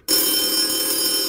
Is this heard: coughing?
no